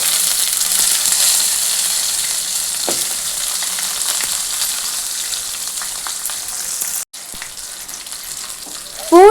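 Cumin, dried red chillies and shallots sauté in hot oil for a brinjal thokku, giving a steady, bright sizzle and crackle. A brief clatter and a louder burst come near the end.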